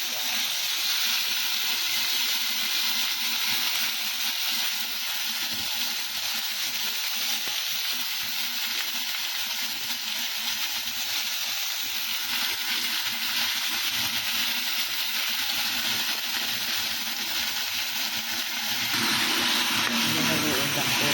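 Garlic and onion frying in a pan for a pork minudo, a loud continuous sizzle and crackle with soft stirring, steady throughout with speech faint underneath.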